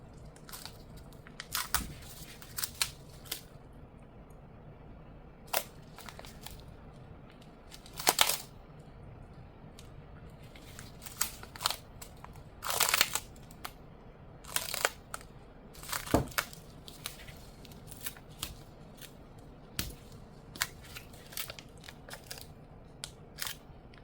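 Tape handled and applied to a baby bottle, heard as soft crinkles, sharp brief tearing and tapping noises scattered irregularly over a quiet background, close and faint, no talk.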